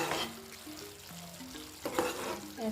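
Tomatoes fry in a pan for a besan sabzi, a soft, low sizzle with a short stirring clatter near the end, while faint tonal background sounds run underneath.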